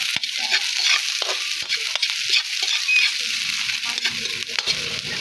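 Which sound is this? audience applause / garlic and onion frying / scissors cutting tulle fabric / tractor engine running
garlic and onion frying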